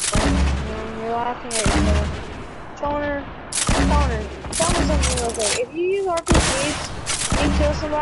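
Grenade launcher fire in a multiplayer shooter video game, several loud booming shots with short gaps between them, heard under excited voices of players talking.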